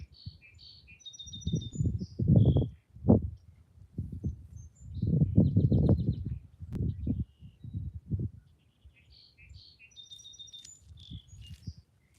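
Small birds chirp and tweet in short, repeated bright phrases beside an open spring river, scattered over a low rumble of wind or moving water in a quiet rural setting.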